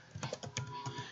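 Quick clatter of keys typed on a computer keyboard, a short burst of several close, crisp taps heard alone.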